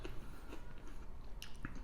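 Close-up chewing of crunchy cooked vegetables with a few crisp bites, soft and wet between them, no talking.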